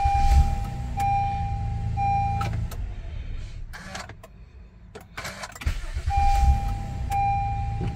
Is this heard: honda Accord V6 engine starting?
yes